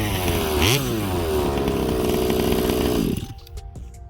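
A King Motors Baja 5B gas RC car with a 45cc engine screams loudly and steadily, with a brief rev spike near the start, then cuts off abruptly, leaving quiet outdoor ambience.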